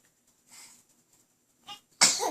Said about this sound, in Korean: 재채기 한번 해주고